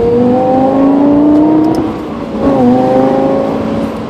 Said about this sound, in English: if you downshift, you would have to bring the engine speed up to match the gearbox speed to the rear wheel speed